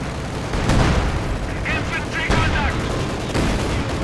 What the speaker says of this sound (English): Another anti-tank grenade fails to make much of an impression.